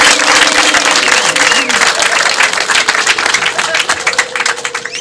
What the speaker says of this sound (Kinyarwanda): Reka nisabe umuryango wa Ruseka ukumpera amashyi ashimishije n'impundu.